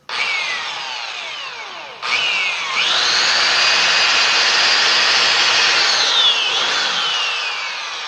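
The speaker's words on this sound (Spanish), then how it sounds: "Primero vamos a hacer las 2 perforaciones con la broca delgada." A power drill with a thin bit bores holes into wood while building a wood-and-melamine table, its high whine running loud and steady, dipping briefly around two seconds before surging back and holding, with no talking.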